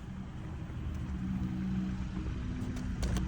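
A car engine idles steadily nearby, a low continuous rumble with a faint hum, running under an outdoor cooking setup without any talk.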